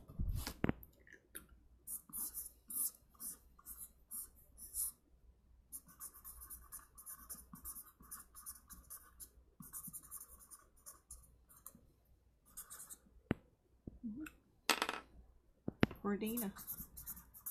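A pen drawing on paper produces bursts of soft scratchy strokes in repeated spells, close and fairly quiet, with brief pauses between passes and some faint background noise.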